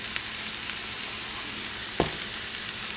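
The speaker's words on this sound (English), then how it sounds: "Kind of give it a little stir" Seasoned food with Tony's seasoning and garlic stirred in a frying pan, a continuous loud sizzle with one soft knock of the utensil against the pan midway.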